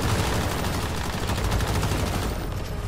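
Dense, continuous gunfire from a fast-firing gunner build in the video game Once Human, during the Silo EX1 solo mission. The shots pour out loud and unbroken across the whole stretch.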